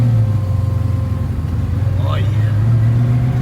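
A carbureted car pulls away in first gear with a loud, close, pulsing engine drone inside the cabin, while a voice speaks briefly over it.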